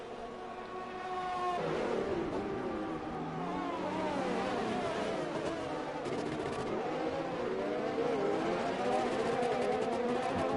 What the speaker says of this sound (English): Sounds though it's got itself a bad case of tapping.